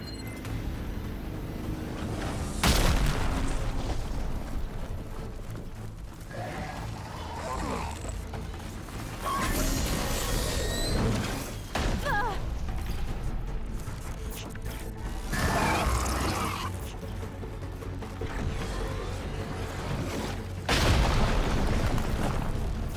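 An explosion in the video game Horizon Burning Shores, with loud broadband bursts and rumbling blasts recurring over a constant backdrop of game effects and mechanical clanking.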